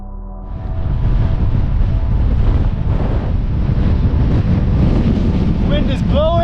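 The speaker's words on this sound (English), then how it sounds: "Wind is blowing." Strong, dusty wind buffets the microphone on a desert hike as the weather turns, a loud, steady roar filling the whole clip after a quieter start.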